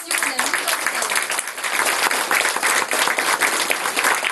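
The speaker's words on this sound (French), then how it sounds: "Je crois qu'on peut encore les applaudir" An audience applauds steadily after a children's school theatre show, dense continuous clapping from a room full of people, loud and close, sustained for the whole stretch.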